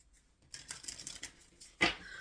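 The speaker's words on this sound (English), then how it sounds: "All right, Spirit, I am shuffling" Tarot cards are shuffled by hand in a series of soft papery rustles, ending with a sharper, louder riffle snap near the close.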